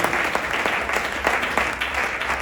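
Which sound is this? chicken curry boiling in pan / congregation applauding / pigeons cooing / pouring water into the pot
congregation applauding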